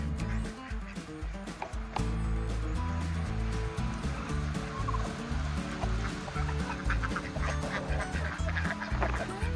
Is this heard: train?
no